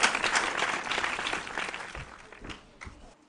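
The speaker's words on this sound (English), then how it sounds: "A round of applause as everybody comes back." A school quiz contest audience applauds as contestants return to the stage. Moderate, fairly distant clapping fills the room, fades after a couple of seconds and ends in a few scattered claps.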